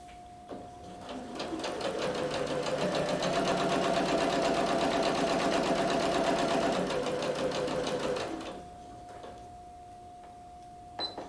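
A sewing machine runs a line of stitching along a bodice seam, a rapid even mechanical chatter that speeds up, holds steady for several seconds, then winds down and stops.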